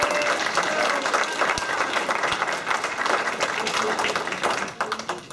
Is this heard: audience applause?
yes